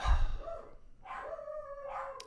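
Dogs bark indoors, three separate woofs spaced about a second apart, fairly faint and somewhat distant.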